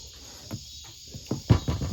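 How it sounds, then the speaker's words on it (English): A steady high insect drone, like cicadas or crickets, hums continuously outdoors, with a few soft low thumps and rustles breaking in near the end. "Cicadas, or whatever that is."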